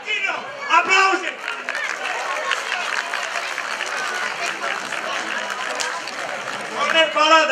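Crowd applause at a village days festival in Dudeștii Noi, a steady, dense wash of clapping blended with crowd chatter, with voices talking over it at the start and again at the end.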